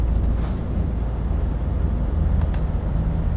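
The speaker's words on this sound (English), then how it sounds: "Well, a turbo whistle on that's brilliant." A Scania truck in Euro Truck Simulator 2 drones with a steady low engine rumble, with faint, brief high turbo whistles rising over it at moments.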